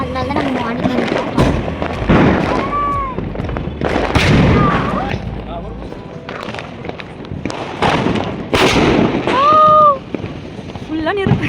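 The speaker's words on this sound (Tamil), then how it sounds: "இது பார்த்தீங்கன்னா என்ன பட்டாசுனே தெரியல, டிஃப்ரெண்டாக இருந்துச்சு" Diwali firecrackers burst on a rooftop at night, a series of loud, sharp cracks and booms with crackling tails, interspersed with whistling rockets, while people talk and call out between the bangs.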